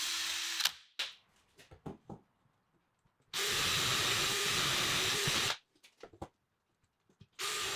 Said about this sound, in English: I'll drill the hole slightly larger at 13mm to give me a bit of clearance